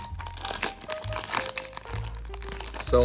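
Pokémon Vivid Voltage trading card packs are torn open and crinkled close up, making dense foil crackling and crumpling that runs continuously for a few seconds.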